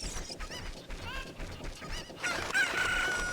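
Chickens in the video game Zelda: Ocarina of Time, giving short squawking clucks and crow-like calls that grow louder and denser toward the end, with faint game sounds underneath.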